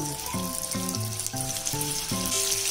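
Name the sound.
keema balls frying in oil on low flame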